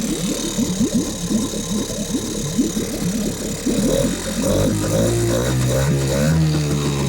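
A Mercury outboard motor on a fishing boat runs just after starting, its choppy rumbling putter settling into a smoother, steadier drone, close and fairly loud with no talking.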